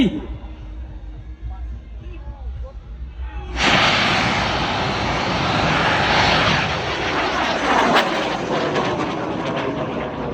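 A large bang fai saen bamboo rocket launches at a village rocket festival with a sudden loud roaring whoosh that keeps going steadily as it climbs, while a crowd and an announcer can be heard underneath.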